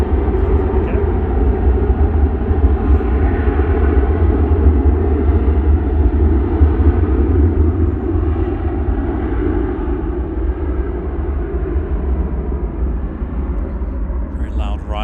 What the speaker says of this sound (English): Very loud Ryanair heading off to Berlin.